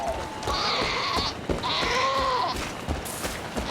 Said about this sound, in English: Fuck you, goat!